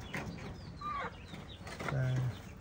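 Local chickens and a rooster on a farm, with soft intermittent clucking and calls close by, partly under ambient noise and what may be faint voices.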